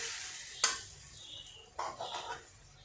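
Pabda fish curry being stirred in a pan with coriander leaves and green chillies: faint spoon scrapes and a soft clink, then a brief scraping shuffle over a quiet, low sizzle.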